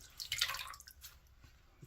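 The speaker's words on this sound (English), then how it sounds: "Just dropped my towel in the water." A towel dropped into water during a wet shave with a double-edge razor gives a faint, brief splash and drip, one soft burst with a few small trailing drops.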